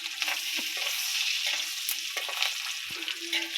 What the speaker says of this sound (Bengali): আমার তো মাছ ভাজির সময়, মাছ ভাজির সময় একটু সাইডে দাও তাহলে